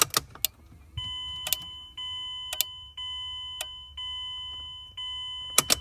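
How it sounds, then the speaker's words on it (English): A module in a Mazdaspeed6 clicks after the ignition key is turned on, giving sharp, distinct clicks roughly once per second together with steady electronic tones, close up, and no one speaks. "when you turn the key on, it's actually clicking"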